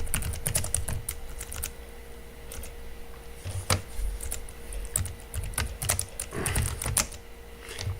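Typing on a computer keyboard, with rapid irregular clicks in bursts and short pauses, close and fairly loud over a low background hum.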